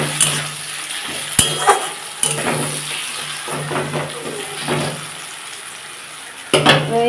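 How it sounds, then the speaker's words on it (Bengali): Onions fry in a pan for chicken curry with a low steady sizzle, broken by several sharp clinks and scrapes of a utensil against the metal pan. "দেখুন বন্ধুরা, আমার পেঁয়াজটা ভাজা হয়ে গেছে"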